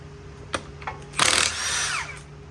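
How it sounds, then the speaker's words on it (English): Impact wrench or power tool spinning lug nuts off a wheel of a 2011 Lincoln Town Car, a short burst of loud whirring after a few faint clicks, close by with no talk. "So we're gonna take the lug nuts off."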